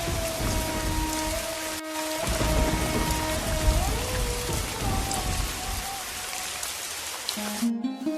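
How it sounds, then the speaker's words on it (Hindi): Heavy rain pours down in a dense, continuous hiss, with tonal hums and a brief dropout partway through; no voices. "इतनी बारिश हो रही है"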